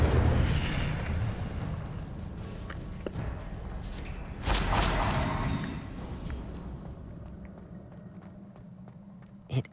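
An Incendio fire spell explodes in the Hogwarts Legacy video game, a sudden whooshing burst of flame over ongoing rumbling game ambience, followed by a few faint taps and a small pop near the end.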